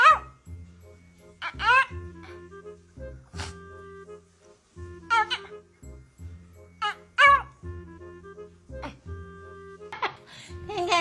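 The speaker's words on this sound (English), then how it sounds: "Can you translate what this dog is saying? Because he looks slightly furious." A dog gives a series of short barks, yips and vocal grumbling sounds in uneven bursts with quiet gaps between, close and fairly loud, alone without any talking.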